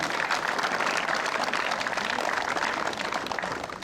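A crowd at an amateur national tennis tournament awards ceremony claps steadily for the staff, a dense, sustained wash of applause that holds throughout and tapers slightly at the end.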